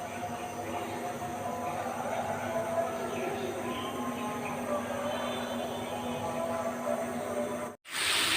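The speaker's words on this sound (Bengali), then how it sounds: "আমার পানিটা ফুটে এসেছে।" Water boils in a pot on a gas stove turned up high, a steady, moderately quiet rolling hiss and bubbling heard close, with a brief gap near the end.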